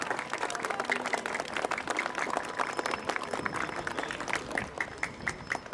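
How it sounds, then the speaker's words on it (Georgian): Sustained, dense applause from a crowd honouring young boys' football teams (2014-born players of Saburtalo and TS Academy) at a youth tournament award ceremony, steady and fairly close throughout. "ერთი კარგი აპლოდისმენტები ამ ბიჭებს"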